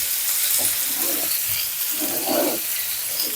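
Onions and small shallots sautéing in a pan for a Kerala-style ulli thoran give a steady close sizzle with soft stirring scrapes and swells of hiss, with no talk over it.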